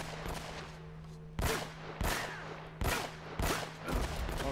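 Gunfire in Uncharted: Drake's Fortune Remastered, five sharp shots cracking at uneven intervals over a steady low background hum, fairly close and distinct.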